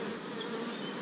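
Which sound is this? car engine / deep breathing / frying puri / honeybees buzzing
honeybees buzzing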